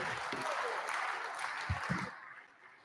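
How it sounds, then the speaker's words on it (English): Scattered applause on a legislative house floor during a session, with a few louder low thumps near the end before the clapping fades. "She's an exceptional young lady, and she deserves a great round of applause."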